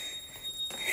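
An alarm is switched on upon entering a building: a steady high electronic tone sounds throughout, with a brief brighter chirp near the end, heard alone and fairly quiet.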